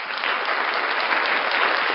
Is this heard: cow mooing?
no